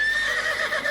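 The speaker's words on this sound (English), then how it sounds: "somewhere in the dark a horse neighed" A horse neighs at night with wind rising outside, a drawn-out whinny that wavers for about a second, fairly close and heard alone.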